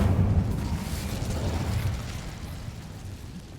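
Incendio fire spell cast in Hogwarts Legacy: a steady roaring, rumbling burst of flame that fades gradually, with no talk over it.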